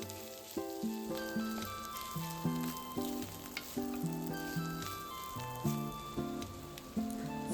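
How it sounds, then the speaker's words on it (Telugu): Onions fry in oil with green chillies, cashews and ginger paste, giving a soft crackling sizzle with repeated spatter pulses. Distinct tonal notes sound over it throughout. "తర్వాత ఆనియన్ వేసుకొని కొంచెం ఫ్రై చేసుకోవాలి"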